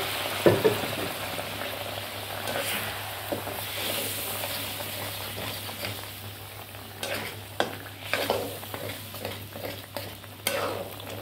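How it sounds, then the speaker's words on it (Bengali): Hot water hits a pan of fried spice masala, setting off a continuous hissing sizzle and bubbling, with stirring and scraping knocks that grow more frequent toward the end. "মশলাটা আমার কষানো হয়ে গেছে। আমি এর মধ্যে গরম জল অ্যাড করছি।"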